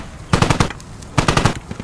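Two loud bursts of rapid automatic gunfire in the video game Squad, each a quick string of about five close shots, separated by a short pause.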